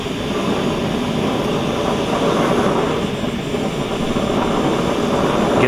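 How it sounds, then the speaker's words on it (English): An oxyacetylene cutting torch burns with its oxygen valve open, producing a loud, steady, broadband roar that stays continuous and close throughout. "Turning on the oxygen valve."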